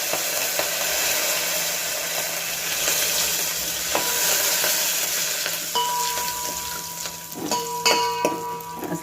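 Ajwain and curry leaves sizzle in hot oil for a tempering, a loud, close, steady hiss with scattered crackles and pops that grow busier near the end.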